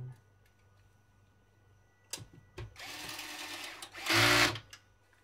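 Bolts are driven back in while reassembling a Canon LBP-800 printer: after quiet clicks and handling noises, two whirring bursts of a motorized screwdriver follow, the second shorter and louder, heard up close.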